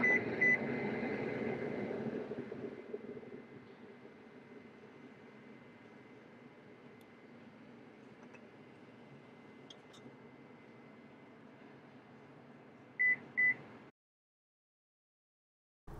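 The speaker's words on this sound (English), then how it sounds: "just hold until you hear the beeps" A steady low hum fills the space inside a Lexus LX 600, then near the end two short electronic control beeps sound in quick succession before the noise cuts out.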